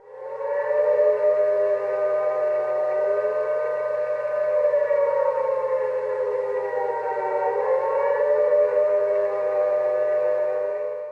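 Civil defense siren from an old film, a sustained wailing tone that rises and falls gently, loud and steady throughout with no voices.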